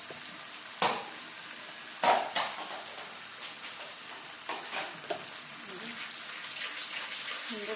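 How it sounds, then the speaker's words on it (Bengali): Spice paste with salt and turmeric frying in a pan, soft continuous sizzle broken by a few sharp scraping stirs, with quiet background clatter. "সুন্দর করে মশলাটা কষাইয়া"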